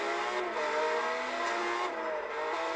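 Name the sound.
car engine racing in video game Forza Horizon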